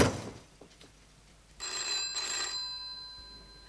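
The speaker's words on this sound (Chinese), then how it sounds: "玉啊，听电话，玉。" An old-fashioned telephone bell rings indoors, a bright metallic double ring heard close and clear after a few quiet knocks, the ringing fading slowly as it decays, in a 1980s Hong Kong drama setting.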